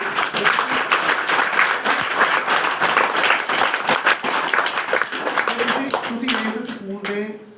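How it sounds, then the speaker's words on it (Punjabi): Applause from an audience at a school event fills the space with dense, steady clapping that fades toward the end as a voice begins over it. "ਇੱਕ ਵਾਰ ਜ਼ੋਰਦਾਰ ਤਾੜੀਆਂ ਮਾਰੋ"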